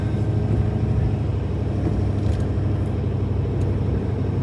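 Vehicle fitted with Lasfit 3-inch LED pod lights driving along a country road: a steady, loud low rumble of engine and tyre noise that holds constant throughout, with no talking.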